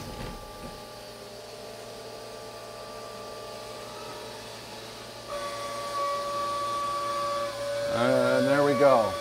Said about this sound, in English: I am going to give myself a little bit of coolant here.